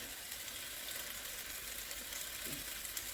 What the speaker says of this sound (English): you can hear that sizzle once they hit the pan